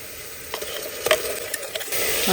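Onions and spice paste fry in a pan while being stirred: a steady close sizzle with scattered scraping clicks and a louder hiss building toward the end, with no talking.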